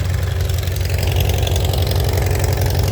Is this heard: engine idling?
yes